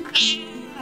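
Cat in the video game Broken Sword giving one loud, drawn-out meow with a bright, strained rise and a slowly falling tail, heard close and alone.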